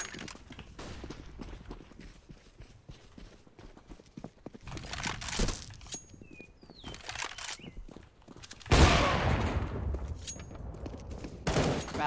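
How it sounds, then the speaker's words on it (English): Flashbang grenade and gunfire in Black Ops 3 during a competitive college match: scattered sharp shots and a loud burst near the end, with clattering footsteps between. "Throwing the flashbang."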